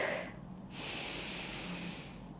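A slow, deep inhalation through the nose during a gentle morning stretching routine, a steady breathy hiss lasting about two seconds, heard close and alone.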